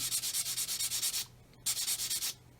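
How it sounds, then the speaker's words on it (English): Close, rhythmic sanding strokes on the plastic fuselage of a 1/144 Roden C-141B Starlifter model, a rapid series of even scratchy passes, then a brief pause before another burst. "Basically blending just sanding the fuselage until I see clear all around that masking tape"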